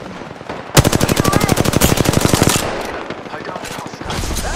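Rapid automatic gunfire from a weapon in the video game Apex Legends, season 5, a loud steady burst of dense repeating shots lasting nearly two seconds, followed by quieter game sounds.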